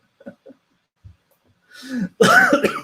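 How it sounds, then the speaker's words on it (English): A few faint throat sounds, then a harsh, close cough bursts out near the end. "Sorry for coughing in your ears."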